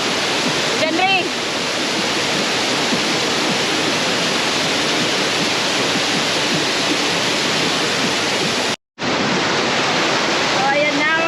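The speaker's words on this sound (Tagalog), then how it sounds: "Dito lang muna tayo sa maliit na falls." Small waterfall at Daranak Falls in Tanay, Rizal, pouring as a loud, steady broadband rush that fills the whole stretch, with a brief dropout near the end and faint voices barely above the water.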